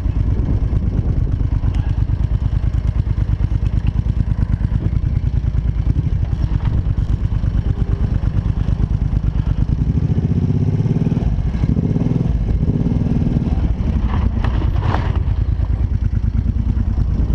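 A four-wheeler ATV engine runs continuously as it rides the rocky Moab Rim Trail, with a loud, steady drone and occasional rattles and bumps.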